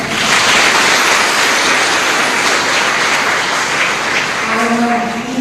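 A large crowd applauds loudly and steadily inside a chapel, a dense wash of clapping that continues throughout.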